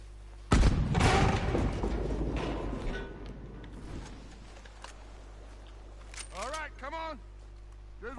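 A dynamite explosion in Red Dead Redemption 2 bursts loud and broad during a train robbery, then decays over several seconds into a rumbling tail, with a few short chirping sounds near the end.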